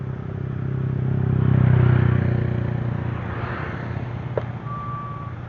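A truck on a road gives off a steady engine rumble, swelling as it passes nearby, with a brief high reversing beep near the end.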